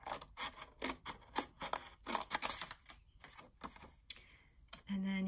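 Scrap paper being cut for a card pocket makes a quick series of close, crisp snips and rustles in uneven rhythm, ending with a short steady whir.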